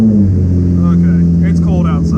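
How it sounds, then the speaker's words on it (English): A car engine starts in cold weather and settles into a steady warm-up idle, with a low continuous hum running throughout under close talk. "I'm gonna go ahead and start the car to let it warm up"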